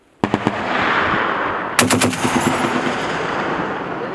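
An M2 Browning machine gun fires on a National Guard range at targets, loud and close: a short opening burst, then a longer rapid burst, with echoing rumble between and after.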